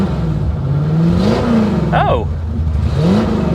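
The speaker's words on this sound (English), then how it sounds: "if you're very, very gentle, sometimes you can get it to rev up a little bit" A car engine revs up and settles under gentle throttle, a mid-pitched hum rising and falling twice at close range, with a short voiced exclamation in the middle.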